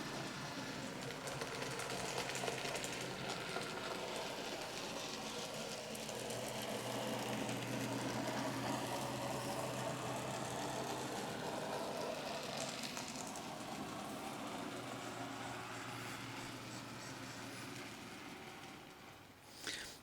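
An N gauge model locomotive runs along the layout track with a steady low mechanical whir and soft rhythmic clatter, fairly quiet and continuous, ending with a brief louder click.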